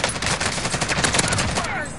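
A Stoner machine gun rattles in a video game firefight, a loud, dense burst of rapid shots packed tightly together for about two seconds before cutting off abruptly.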